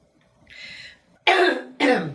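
Two sharp, close coughs in quick succession, preceded by a softer breathy throat sound.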